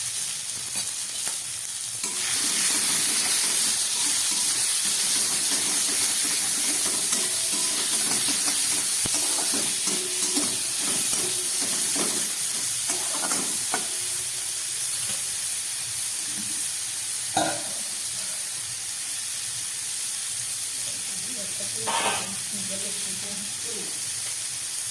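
Vegetables fry in a pan as filling for atta momo, giving a continuous close sizzle and hiss with occasional stirring knocks and scrapes.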